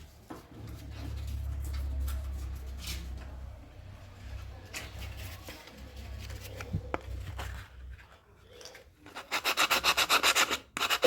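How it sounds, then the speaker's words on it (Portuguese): Sandpaper is rubbed back and forth over the edge of a VW Beetle wheel part, a close, raspy scraping in long strokes with a brief pause, ending in a burst of quick rhythmic strokes. "Vou dar uma passadinha na lixa aqui"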